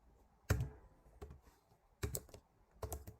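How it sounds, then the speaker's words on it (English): Keys on a computer keyboard tapped in three short bursts of clicks, close and fairly quiet, while ad copy for a waterproof backpack is being entered. "So just going to type in travelers"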